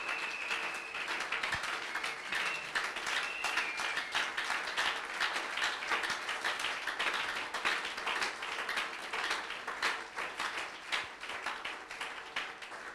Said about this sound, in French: Que quelqu'un acclame la parole du Seigneur des Seigneurs.